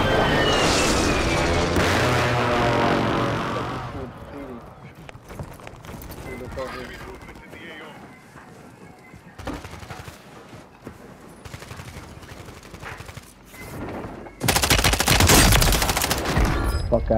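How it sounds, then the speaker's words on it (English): Call of Duty airstrike explosions and bursts of gunfire erupt loudly, a heavy rumbling barrage at the start and another sharp burst near the end, with scattered shots and voices in between. "Friendly airstrike in the AO."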